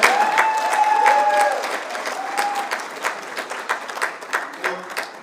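An audience at a Korean American heritage gala in Los Angeles applauds, with a few voices whooping at first, then the clapping thins out into scattered, fading claps.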